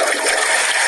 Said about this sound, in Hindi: ये फ्लश की आवाज थी वैसे।